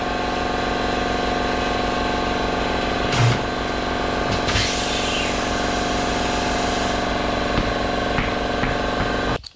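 An air compressor inflates a tire for a 1973 AMC Javelin to 35 pounds, a steady mechanical drone running throughout with a few faint knocks and clicks over it, then cutting off at the end.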